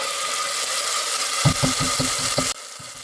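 Whole cumin seeds and spices fry in hot oil with a constant bright sizzle; midway a few low thuds and scrapes from the pan break in before the frying cuts off abruptly.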